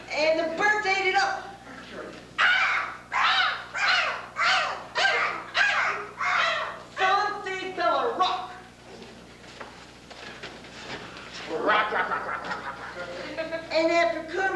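Performers in a stage production of Godspell imitate crows with a run of loud, rhythmic vocal caws, then a burst of chattering bird-like calls.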